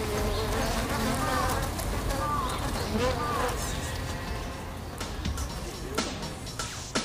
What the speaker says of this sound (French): Les abeilles produisent de la chaleur en faisant vibrer les muscles de leurs ailes.